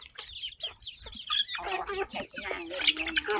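Black chickens cluck nearby in a quick, irregular run of short calls, fairly soft throughout.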